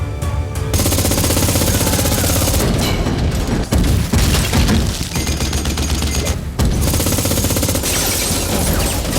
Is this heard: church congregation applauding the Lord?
no